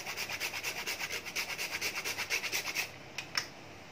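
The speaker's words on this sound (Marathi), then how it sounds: "आणि हे साखरेवर किसून घ्यायचं आहे।" A spice for basundi is grated over sugar in quick rhythmic rasping strokes, a dozen or more scrapes close up that stop near the end, followed by a couple of light taps.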